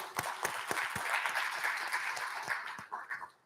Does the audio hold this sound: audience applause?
yes